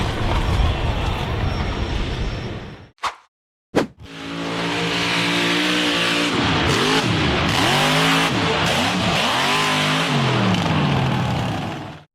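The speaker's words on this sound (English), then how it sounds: "The red and white KFC buggy went full throttle in an attempt to climb the extremely steep sand hill." A red and white KFC-liveried off-road buggy at full throttle attempts an extremely steep sand hill, its engine roaring loud and steady for most of the stretch with rising and falling revs, broken by a brief cutout near the start.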